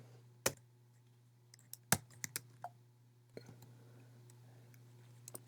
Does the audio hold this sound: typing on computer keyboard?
yes